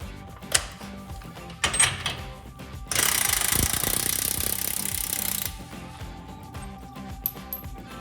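A tie rod bolt on a Jeep Wrangler JL is broken loose with a 21 mm socket: a few sharp metallic knocks, then a loud continuous mechanical rattle lasting about three seconds, followed by quieter clinks close by.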